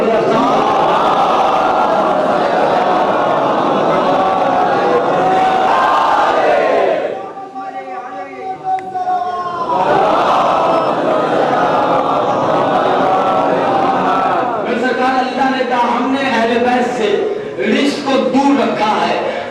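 A large crowd loudly chants salawat in unison, a dense roar of many voices that drops briefly to a quieter stretch with a single voice before the massed chanting swells back up.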